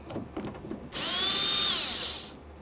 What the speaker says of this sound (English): make sure you loosen up these bolts before we bring this up to the window